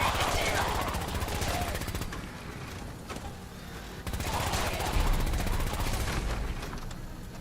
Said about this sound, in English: Oh, hey, we'll use our Gatling laser.